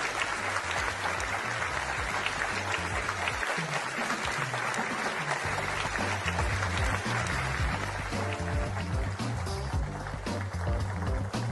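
An audience applauds after a speech by minister André Mendonça, a loud, dense burst of sustained clapping from a large crowd that continues steadily throughout, with some crowd voices mixed in.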